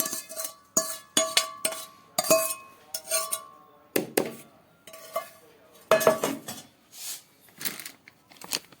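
A spoon clinking and scraping against a metal pot while spiced oil is stirred into lemon pickle, sharp irregular knocks and rattles in quick bursts with short pauses, close and alone.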